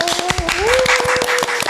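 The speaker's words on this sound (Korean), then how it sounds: "박수!" Brief burst of applause and clapping greets a sponsor announcement on a Korean horror-story show, mixed with a rising tonal sting, with scattered sharp claps across under two seconds.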